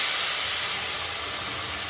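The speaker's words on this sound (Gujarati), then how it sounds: "એટલે મમ્મી વઘાર કરે છે." Spices are tempered (vaghar) in hot ghee and groundnut oil, giving a close, continuous sizzling hiss that holds steady for about two seconds with no talking.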